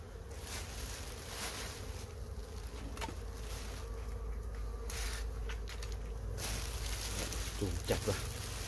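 Bees around a beehive give off a loud, unbroken droning buzz that fills the whole stretch, near and steady, with faint handling noises and a voice now and then in the background.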